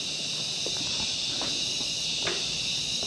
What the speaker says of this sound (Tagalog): Ayan, mayroon ng kuliglig. Narinig nyo? Ang lakas.